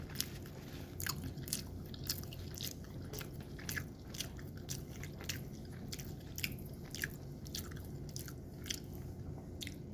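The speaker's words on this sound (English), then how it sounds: "I'm about to eat the whole thing all at once" Close, wet bites and chewing on a sandwich, with crisp crunches and squishy smacks repeating in a steady irregular rhythm over a low background hum.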